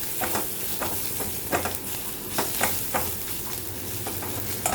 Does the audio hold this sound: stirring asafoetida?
yes